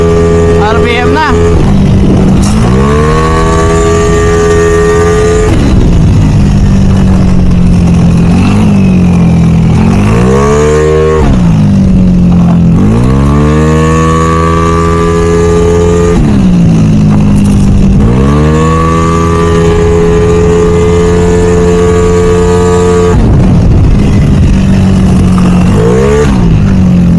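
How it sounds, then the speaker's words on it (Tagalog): Yamaha Aerox 185 motor scooter engine at a practice session, loud and close, revving repeatedly in rising and falling sweeps of several seconds each, with short dips between pulls. "Yun na lang yung onting tunugan ng ating kamotor dito."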